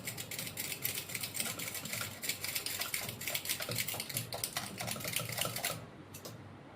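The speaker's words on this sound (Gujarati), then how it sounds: "તો હવે આપણે આને મિક્સ કરી લેશું એકવાર." Curd and mango pulp stirred together in a bowl for mango lassi, a spoon tapping and scraping in quick, uneven clicks close by for several seconds before stopping near the end.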